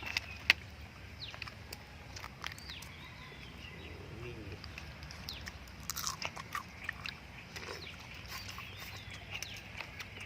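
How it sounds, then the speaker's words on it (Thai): Boiled rice-field crab, small and soft-shelled, being chewed and crunched up close. Quiet, irregular bites and crunches with faint birdsong behind. "เคี้ยวได้เลยถ้าเราเคี้ยวอะตัวน้อย"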